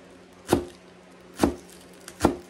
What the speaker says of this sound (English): let's take these green onion tops and let's cut them up little, y'all